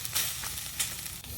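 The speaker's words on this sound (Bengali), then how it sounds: "এখন শীতলটারে খুব ভালো করে ভেজে নিলাম।" Chital fish sizzles in hot oil, a close, steady frying hiss that swells briefly a couple of times as it is stirred.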